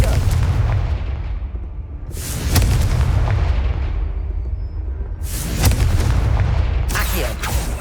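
Confringo blasting spells erupting in Hogwarts Legacy combat, several loud booming explosions with long rumbling decays that overlap through the stretch, heavy and close.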